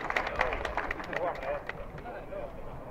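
A crowd applauds the podium trio of a historic motor race at KymiRace, a steady patter of clapping under a public-address announcer's voice.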